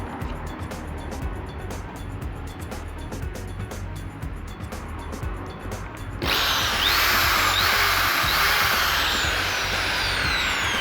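A Makita HP1630 hammer drill, rated at 710 watts, runs close by with a steady whirring motor, then shifts partway through to a louder, rougher and denser whine that continues to the end.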